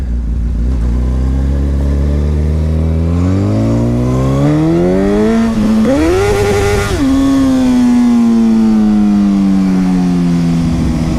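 A 1000cc super sport motorcycle engine revs hard while riding, its loud, close whine climbing steadily in pitch over several seconds, briefly dipping, then peaking and settling to a high, sustained drone with heavy wind noise.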